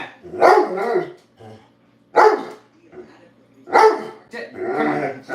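A dog named Jet barks in sharp bursts with low growls mixed in, loud and close, while a man gives calm commands between the outbursts.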